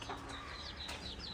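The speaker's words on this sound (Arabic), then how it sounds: "الفراخ بتطير. ما شاء الله اللهم بارك، جعانين جدا." Hungry backyard chickens cluck and call in quick overlapping bursts at close range, with a brief flutter of wings among them and no talk.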